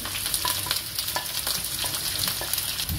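Mushrooms and onion stir-frying for a mushroom chilli, a steady close sizzle with scraping stirs and clinks throughout, no talking.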